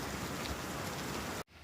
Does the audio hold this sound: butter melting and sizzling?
no